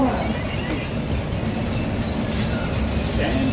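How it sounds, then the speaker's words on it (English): An R160 subway train on the New York G line, Queens-bound, runs with a loud, steady rumble and rattle of wheels on track throughout, close and continuous. "This is a Queens-bound G train."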